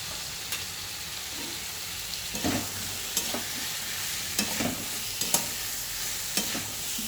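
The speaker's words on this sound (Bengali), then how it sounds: "ভালো করে মশলাটাকে আমি কষাবো" A paste of cumin, ginger, coriander, dried chilli and turmeric fries in a pan with a steady close sizzle, broken by several clinking, scraping stirs of a spoon.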